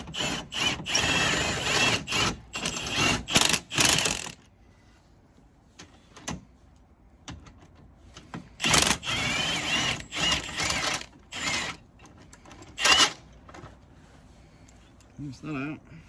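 Power tool whizzing a front suspension bolt out of a BMW 1 Series E82, several short loud bursts of rattling whir separated by quiet gaps, close by, with faint workshop knocks between.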